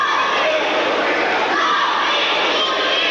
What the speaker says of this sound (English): A very good crowd on hand here this evening